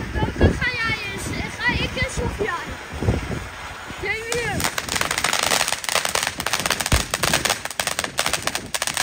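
Voices talk over background noise, then a rapid, loud Belgian 100,000-shot firecracker string bursts into dense crackling pops that keep going.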